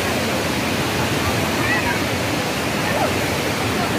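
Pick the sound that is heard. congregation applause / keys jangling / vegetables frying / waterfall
waterfall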